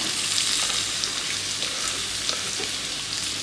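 Sliced onions frying in hot oil in a pan for a fried chicken curry, a steady, close, fizzing sizzle with faint crackles that continues evenly throughout with no talking.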